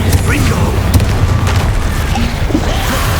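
In the Hogwarts Legacy video game, a Confringo blasting spell goes off with a booming burst amid dense, loud combat noise and clutter of effects.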